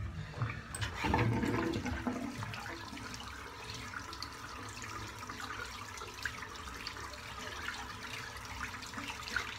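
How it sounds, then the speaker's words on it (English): Hair-filled water from a head shave drains out of a sink, a close gurgling rush that starts loud and settles into a steady, hissing flow. "I'm just going to empty this water out."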